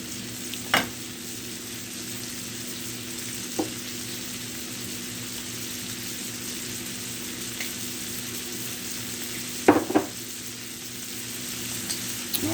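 Blackened shrimp frying in a hot pan give a steady, even sizzle throughout, with a few sharp clicks and knocks of a utensil against the pan, no talking.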